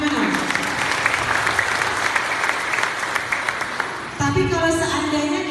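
Audience applause at a Palembang district forum on accelerating stunting reduction: dense, steady clapping from a large crowd throughout, with a voice speaking over it near the end.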